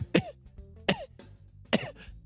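A person imitates a dog's hacking cough three times in a row, each a rough, throaty burst with a short wheeze trailing off.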